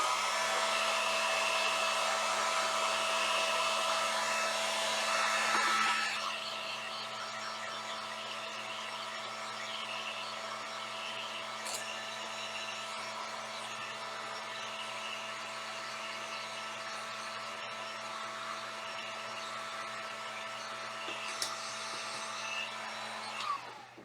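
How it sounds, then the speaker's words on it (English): A heat gun runs steadily while drying craft paint on an Easter garland for a dough bowl, a continuous whooshing, whining hum that drops slightly in intensity after a few seconds and carries on alone until it cuts off. "I'm going to go ahead and dry this with my heat gun"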